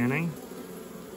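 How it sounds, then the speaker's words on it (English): Honeybees from a large colony in a high stone castle turret fan their wings, a close, dense buzzing hum that swells briefly and then settles into a steady drone. "Got the butt in the air, the wings flapping, and they're letting everybody know that, hey, the queen is over this way."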